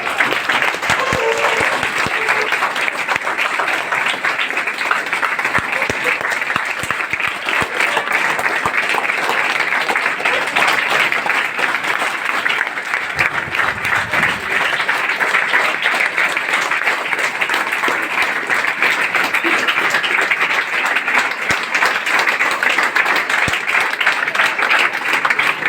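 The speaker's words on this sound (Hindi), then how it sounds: "ताली" A large audience at a motivational event at an IAS coaching academy claps steadily and loudly, a dense, sustained applause that holds at an even level for the whole stretch with no voices standing out.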